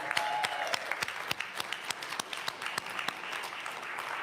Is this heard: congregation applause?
yes